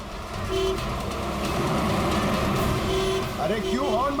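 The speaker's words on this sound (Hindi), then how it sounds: "अरे क्यों हॉर्न मार रहा है?" A vehicle horn honks repeatedly on a busy road amid engine and traffic rumble, short toots sounding loud and close while people talk over it.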